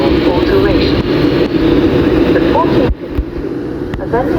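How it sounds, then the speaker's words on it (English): Great Western Railway class 165 or 166 diesel unit passing through Milton Keynes Central station, a loud close engine roar and rumble with squeals, dropping in level near the end. "we've got two trains passing through"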